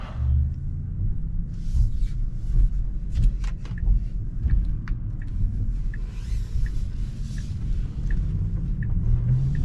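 A Tesla Model 3 Performance drives on the road in sport mode, giving a steady low rumble of road and tyre noise from inside the cabin, with faint ticking clicks throughout and no talking.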